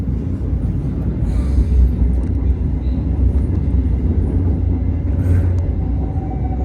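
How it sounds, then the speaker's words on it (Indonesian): A Motis passenger train runs straight through Cibatu station without stopping, giving a steady heavy rail rumble with track clatter heard from on board, and a couple of brief high squeals near the start and end. "Jadi kereta api Motis ini nggak berhenti di Cibatu ya teman-teman ya, melainkan berjalan langsung."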